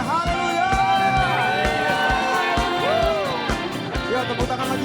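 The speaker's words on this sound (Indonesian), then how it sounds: "Sorakan haleluya" A church congregation at an Easter service shouts and cheers hallelujah together, a loud crowd roar over rhythmic worship music with band and sustained chords throughout.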